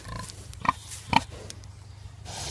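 A young pig gives two short, sharp grunts close by, about half a second apart, with faint snuffling and low background noise around them.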